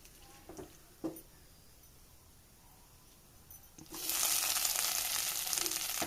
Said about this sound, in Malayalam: ഈ തേങ്ങയിലെ ജലാംശം ഒന്ന് വറ്റി വരുന്നില്ലേ നമുക്കൊന്ന് വഴറ്റിയെടുക്കാം